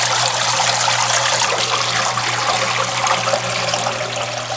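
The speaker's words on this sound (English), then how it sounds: "let's go on the drain cycle, drain and spin, and you will see the water flow here" An Electrolux washing machine drains on its drain and spin cycle, water gushing and trickling out steadily and loudly under a low pump hum, close by with no talking.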